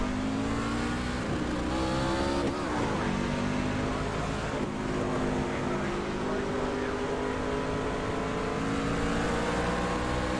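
NASCAR race cars on a track roar continuously, a loud engine drone with shifting pitch as cars pass, steady for the whole stretch.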